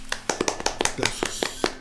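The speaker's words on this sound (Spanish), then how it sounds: "Aplausos" Hands clap in a brief burst of applause, a quick uneven run of sharp claps from a small group, fairly close.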